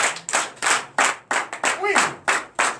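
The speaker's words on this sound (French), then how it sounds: "Donnez l'acclamation à Jésus." A church congregation at a Sunday service claps in rhythmic bursts, roughly eight or nine loud, close claps in under three seconds, with a voice briefly sounding among them.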